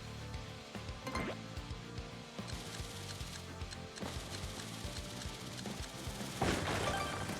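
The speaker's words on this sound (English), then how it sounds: "Use his explosions to destroy cracked rocks, blast open cracked walls, and activate switches." Bob-omb blasts from Paper Mario: The Thousand-Year Door, the partner tossed to destroy cracked rocks and walls, come through as three sharp explosive bursts over steady game music, the last one loudest.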